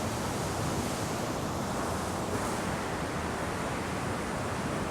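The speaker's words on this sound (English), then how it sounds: "Welcome to the waterfall." A waterfall in Switzerland roars as a dense, unbroken wash of noise, loud and steady throughout, with no voices over it.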